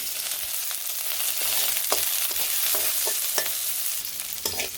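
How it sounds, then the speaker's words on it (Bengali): Onions and green chilies frying in oil in a village kitchen, with bay leaf and cumin, giving a steady soft sizzle broken by several sharp scraping stirs of a spatula, close and fairly quiet, with no talking. "সে পেঁয়াজগুলো আমি হালকা ভেজে নিব"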